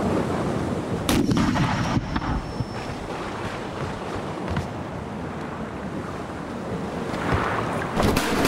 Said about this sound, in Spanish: La primera batería de costado del navío inició la inevitable carnicería